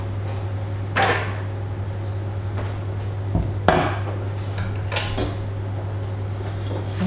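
Chilli and rice are dished up with a few scattered clanks and scrapes of pots and cutlery over a steady low kitchen hum, with sharper metallic knocks spaced through the stretch and no talking.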